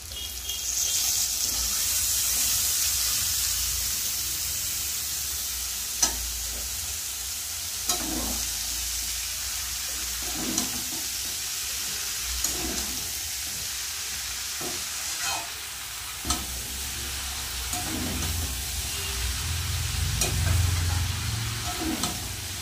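Boiled banana flower fries with spices in a pan, a steady loud sizzle with repeated scraping stirs at irregular intervals and a low rumble building near the end.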